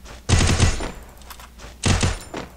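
Two sharp bursts of automatic gunfire in the battle royale game Free Fire, each a rapid rattle of shots lasting about half a second, loud and close with a short pause between them and no talk over them.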